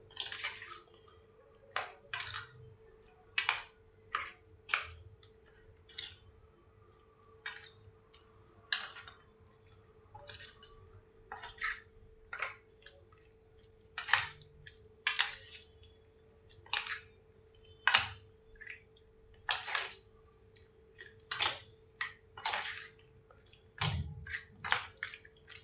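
Yogurt being stirred into a chicken marinade in a bowl, giving repeated wet squelches and scrapes of a utensil against the dish in an uneven rhythm, close up with a steady faint hum beneath and no talk.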